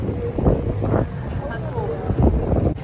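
Tour boat on the water in strong wind, with steady rumbling wind noise buffeting the microphone throughout and people talking over it.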